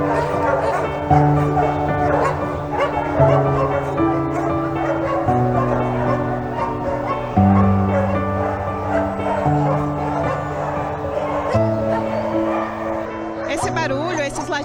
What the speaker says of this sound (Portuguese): Latidos